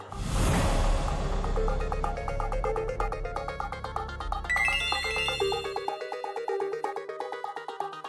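A telephone ringtone plays loudly and continuously at an incoming call, a bright repeating melodic tone over a dense musical bed in a Marathi TV serial scene, with no talking over it.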